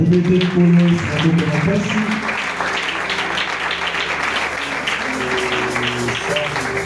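A church congregation claps to acclaim the Lord, with sustained applause throughout and a voice speaking over the clapping in the first few seconds.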